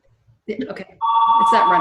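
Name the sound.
mobile phone ringing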